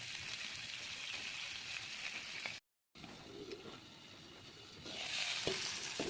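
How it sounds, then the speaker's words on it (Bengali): Onions fry in a pan with turmeric, a continuous close sizzle and crackle broken by a brief moment of silence, then swelling slightly louder toward the end. "পেঁয়াজগুলো প্রায় ভাজা ভাজা হয়ে এসছে।"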